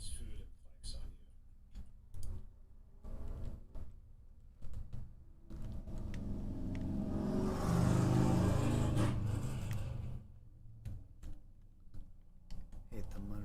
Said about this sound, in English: Hate the motorcycles.